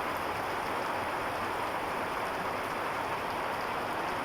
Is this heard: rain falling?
yes